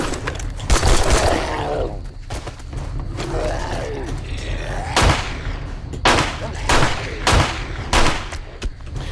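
Gunfire in 7 Days to Die, a series of loud, sharp single shots spaced a second or so apart, close and punchy, with game mechanisms clanking between them and someone talking faintly at times.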